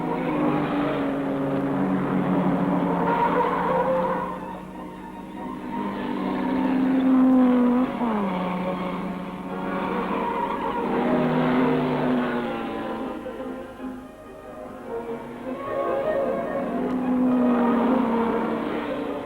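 A vintage Porsche competing in a 1950s–60s rally race roars past, its engine note rising and falling in steady waves of acceleration, loud and continuous with no talk.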